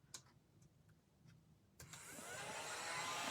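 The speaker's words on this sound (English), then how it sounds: "I bought this tiny little vacuum from Amazon. So you turn it on." A few faint clicks and handling taps give way to a tiny handheld vacuum bought from Amazon switching on, its motor whirring up into a steady rising hiss that grows louder until the end.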